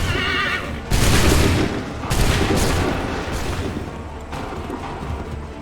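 Massed musket volleys crack out in a battlefield scene from Assassin's Creed 3, several loud bursts each followed by a rolling boom, with a horse whinnying and hooves nearby.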